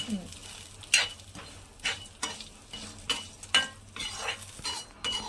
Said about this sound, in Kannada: ಕಡಲೆಬೇಳೆ ಮತ್ತು ಉದ್ದಿನಬೇಳೆ, ಕೊಬ್ಬರಿ ಫ್ರೈ ಮಾಡ್ಕೋತಾ ಇದ್ದಾರೆ